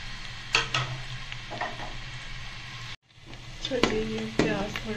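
Onions frying in hot oil for a maash ki daal, a steady close sizzle with a brief hush midway, then renewed hissing and a few sharp utensil clinks and scrapes against the pan.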